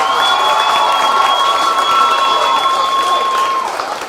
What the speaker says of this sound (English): Let's give a big round of applause for all of the class representatives.